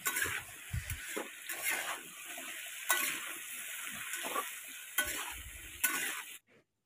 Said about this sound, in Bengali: কচুগুলো 1 চা চামচ লবণ এবং 1 চা চামচ হলুদ গুঁড়ো দিয়ে মিডিয়াম টু ডিপ ফ্রাই করে নেবেন।